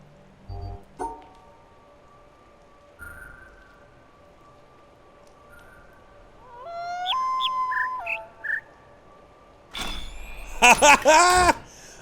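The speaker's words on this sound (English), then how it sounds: "Maybe the chirps are the noise in this one." Electronic bird chirps from the puzzle game The Witness: sustained tonal whistles with a short rising-and-falling chirp figure in the middle, then a burst of brighter warbling chirps near the end over faint background ambience.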